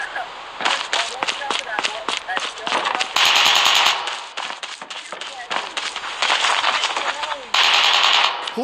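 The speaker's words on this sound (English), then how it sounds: "Who's shooting?" Machine gun shooting during a game of hide-and-seek, with repeated rapid bursts of sharp, crackling shots near and loud, broken by short pauses, and voices talking in between.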